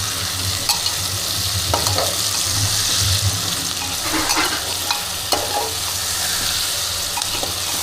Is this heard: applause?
no